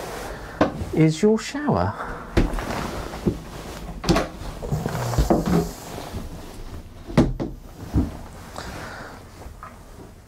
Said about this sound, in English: If I open this door, here